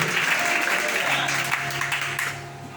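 A church congregation applauding and cheering to God, a dense, loud wash of clapping and voices from many people that fades slightly toward the end.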